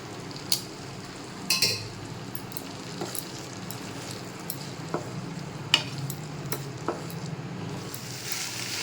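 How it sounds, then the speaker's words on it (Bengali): Boiled chickpeas dropped into spice masala and stirred in a pan, a low sizzle under soft scrapes and sharp clinks of the utensil against the pan, with no talking. "তো এখানে মশলা রেডি, আর ছোলাগুলো আমার সেদ্ধ করা হয়ে গেছে। তো এখন এর মধ্যে দিয়ে দেবো।"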